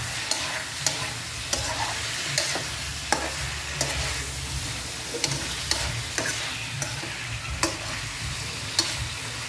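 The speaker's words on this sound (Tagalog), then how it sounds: "Haluin natin guys guys." A spoon stirs tinola, a Filipino chicken soup, in a pot, with a steady sizzling bubble underneath and regular scraping clinks against the pot wall about every second. No one talks.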